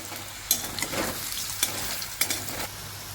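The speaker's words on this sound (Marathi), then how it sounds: "आपण हे फास्ट गॅसवरती भाजून घेतोय" Raw banana slices fry in a pan over high gas, a soft continuous sizzle punctuated by several sharp scraping clicks of a spatula turning the pieces.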